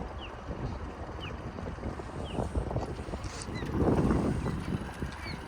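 A single-engine boat backs slowly away from a dock in reverse, its low engine rumble steady under wind noise on the microphone, swelling briefly louder as it maneuvers, with no talking.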